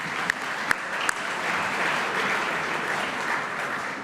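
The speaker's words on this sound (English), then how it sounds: "Round of applause, please, folks." An audience at a rugby league awards night, the Merv Cartwright Medal, breaks into sustained, loud applause, a dense steady wash of clapping with a few sharp individual claps standing out near the start.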